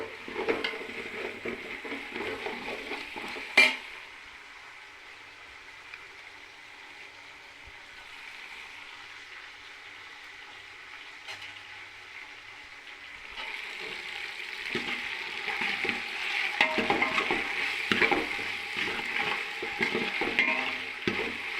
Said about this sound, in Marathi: आलं लसूण पेस्ट टाकते.